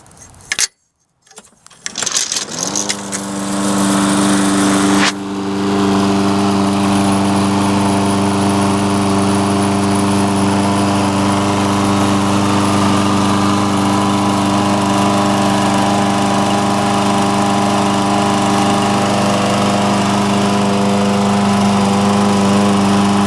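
A Lawn-Boy lawn mower catches after a pull start and then runs at a loud, steady engine drone up close, continuing without a break and with no talk.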